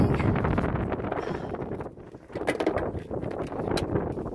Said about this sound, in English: Oh boy, it is windy.